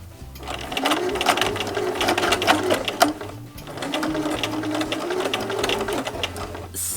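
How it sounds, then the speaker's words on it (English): A sewing machine runs steadily with a whirring, rattling mechanism and a faint irregular catch from the bobbin, loud and close, with a brief pause near the middle before it resumes. "Sounds like my bobbin is making some trouble"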